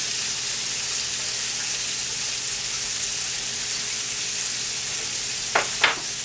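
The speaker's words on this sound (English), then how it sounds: "I was just showing you how I was frying mine" Chicken fries in a pan with a loud, steady sizzle that holds throughout, joined near the end by two brief clattering bursts as the pieces are stirred or moved.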